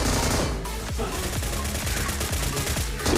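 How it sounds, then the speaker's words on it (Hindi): Rapid bursts of automatic gunfire from an M249 machine gun and an M762 rifle in a battle-royale shooter, loud and close, with dense repeated shots filling the whole stretch. "देखो मशीन गन वर्सेस M762"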